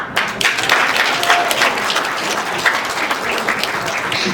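Steady audience applause at an awards ceremony in Montreal, many hands clapping together in a dense, continuous wash that stays fairly even throughout, with no speech over it.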